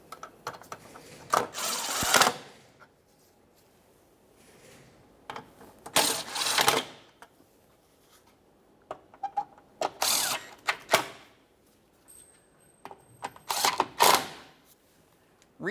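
Several short bursts of close, quiet ratchet clicking as the sway bar bushing bracket bolts on a Toyota Sienna are snugged up, separated by pauses of near silence.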